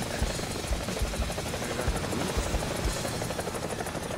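Helicopter rotor in the War Thunder Mobile video game, a steady loud chopping thrum with regular low blade pulses running throughout, no talk.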